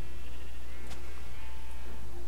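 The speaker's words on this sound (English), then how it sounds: "this big room is the sheep farm" A single short sheep bleat rings out from a Minecraft sheep farm, over a steady low background hum with no talking.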